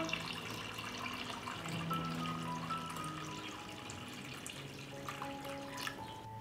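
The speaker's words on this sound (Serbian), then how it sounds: "Sipam vodu u šerpu do visine poklopca." Water is poured into a cooking pot holding glass jars set on a cloth, filling it to the height of the lids; a soft, continuous trickle and splash sounds close by and fairly quiet.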